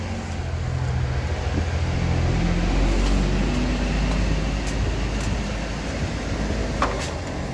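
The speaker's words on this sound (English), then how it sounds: "Loud truck in here." A heavy truck rumbles loudly nearby, its deep engine drone steady and continuous with no talking.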